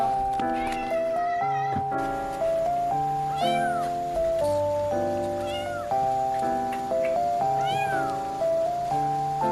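A mother cat with newborn kittens gives several short, high meows that rise and fall over a steady melodic tune playing in the background.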